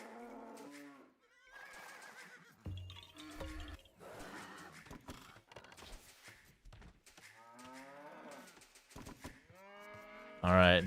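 Cattle lowing in Age of Empires 2, several moos spread through the game's ambient sounds, ending with one loud, close bellow.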